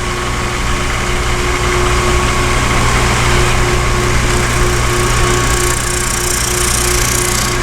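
A 16-32 drum sander grinds steadily across a wooden board, a loud, continuous motor roar with rough abrasive rasp and no breaks, heard close up with no talking.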